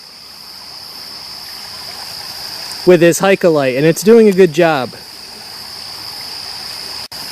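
Steady rushing water from a creek flows throughout, with rain falling, and someone speaking briefly over it midway.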